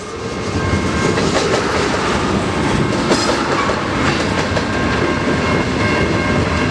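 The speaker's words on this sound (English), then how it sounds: "the CN train just slapped the tracks" A CN mixed freight train rolls past the Emmons Blvd railroad crossing in Wyandotte, Michigan, close and loud, with continuous rumbling and rhythmic clickety-clack of wheels on rail joints throughout.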